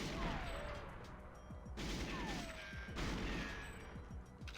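Rapid bursts of gunfire in the N64 shooter GoldenEye 007 as wooden boxes are shot apart, repeated clusters of sharp shots and crashes at a low, steady level.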